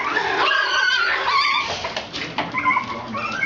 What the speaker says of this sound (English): she said, playing with the puppies.